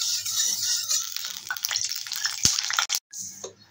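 Oil heating in a wok, with a bright steady sizzle and crackle up close, broken by a few sharp clicks and a brief gap near the end, no voices.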